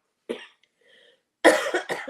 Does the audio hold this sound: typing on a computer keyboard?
no